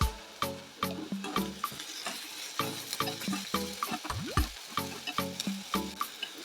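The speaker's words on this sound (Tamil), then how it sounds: "வெங்காயம் நல்லா கோல்டன் ப்ரௌன் ஆற வரைக்கும் நல்லா வதக்கி விடணும்" Onions sautéing with salt in a pan for egg masala gravy, stirred with a spoon that knocks and scrapes against the pan in a rapid, uneven rhythm over a steady sizzle, close and clear.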